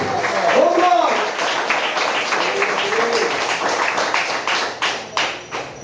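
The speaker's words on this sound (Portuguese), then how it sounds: "Palmas para o Senhor Jesus." Church congregation applauding during a sermon, a sustained crowd of hand claps over voices, thinning into a few separate claps near the end.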